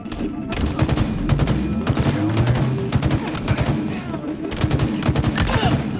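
Dense automatic gunfire in the Halo video game, rapid bursts of loud shots nearly nonstop with booms underneath, and a voice talking over the action.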